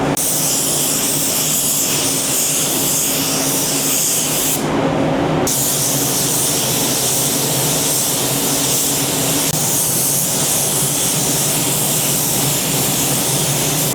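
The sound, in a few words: spray gun spraying car paint coat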